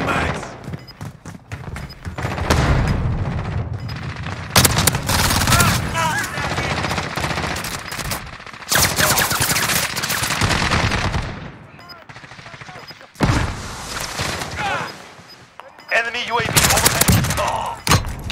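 Call of Duty Modern Warfare Demolition match: loud, near automatic gunfire in long bursts with brief pauses, some rapid overlapping volleys, and faint radio chatter in places.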